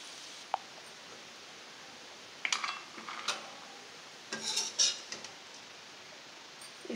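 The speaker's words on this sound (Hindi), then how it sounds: "अब एक प्लेट में हम सर्व करेंगे।" A spoon serves black chana ghughri onto a plate with quiet scrapes and light metallic clinks, grouped in short bursts between soft pauses and heard alone.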